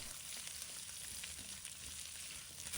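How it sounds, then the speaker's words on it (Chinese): Pork belly and garlic whites stir-fried in a wok give a steady, close frying sizzle that holds even throughout, with no voices. "炒至金黄色的五花肉，再把蒜白放入锅中，炒出蒜香味。"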